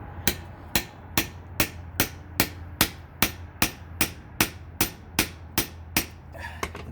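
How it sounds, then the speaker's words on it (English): A hammer strikes a punch to drive a pin out of an F250 parking brake cable assembly, about sixteen sharp metallic blows in a steady rhythm, close and alone. "So what I'm trying to do is just punch it out for right now."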